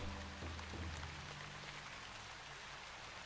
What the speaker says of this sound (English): So the sound of the rain and things like that